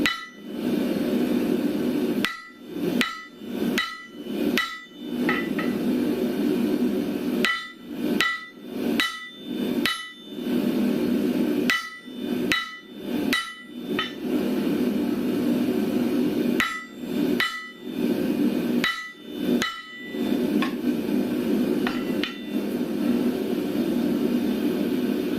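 A blacksmith's hand hammer strikes hot metal over a forge fire, landing in quick bursts of three to five sharp ringing blows separated by pauses, loud and close above a steady roaring forge background.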